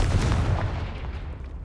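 A Confringo fire spell explodes in Hogwarts Legacy as a single deep, loud boom whose rumbling tail fades over about a second and a half.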